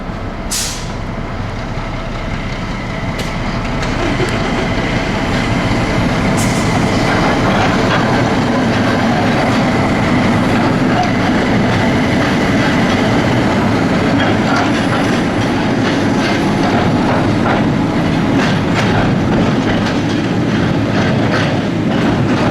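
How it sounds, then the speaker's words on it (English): Shunting locomotive 08600 rumbles across a road out of a goods yard, a loud, steady diesel drone with rhythmic wheel clatter over rail joints and occasional squeals and clanks. "next we can see the train crossing 40-foot road out of the back of Middlesbrough goods"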